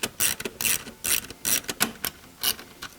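Rapid ratcheting bursts tighten a clamp on Harley-Davidson M8 slip-on exhaust pipes, close and loud, coming in quick clustered clicks with short pauses between strokes.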